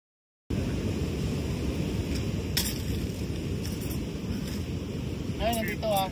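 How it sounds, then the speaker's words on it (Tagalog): Strong sea wind buffets the microphone on a small fishing boat off Bolinao, Pangasinan, a steady loud roar of gusts and rushing air with faint water noise and no talking. "Malakas pa rin ang hangin"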